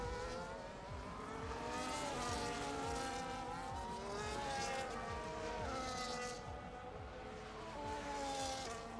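Racing car in a racing video game, engine whining loud and continuous as it slows through a corner, pitch dropping and rising again with faint tire noise.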